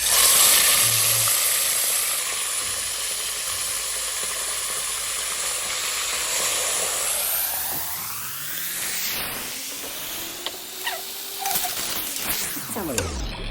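Chicken chicharon drops into hot oil and fries with a loud, steady sizzle and hiss that softens into crackling bubbles, with occasional clinks and faint scraping.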